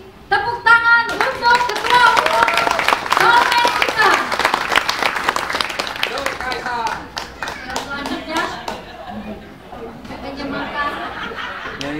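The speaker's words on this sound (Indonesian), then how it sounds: "tepuk tangan untuk Ketua Umum Soulmate kita" A crowd at a PSI gathering with the Soulmate group claps loudly for its chairman, dense close applause mixed with chatter and cheering voices that thins out toward the end.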